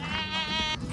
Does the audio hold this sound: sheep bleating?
yes